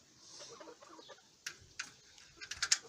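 Chickens let out out of their pen on a poultry farm give scattered soft clucks, faint and somewhat distant, with a few sharper, louder calls near the end.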